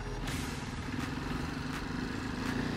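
A motorcycle rides slowly over a badly broken road, giving a steady mid-pitched engine hum with a faint rattle and clatter, heard up close with no talking.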